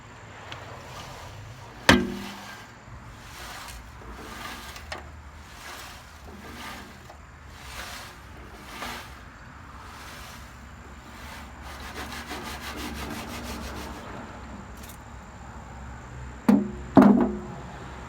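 Sediment rattling inside a drained Honda Goldwing GL1200 gas tank, a quiet, continuous gritty scraping and shushing as the loose debris slides around, with a few sharp metallic knocks near the start and the end.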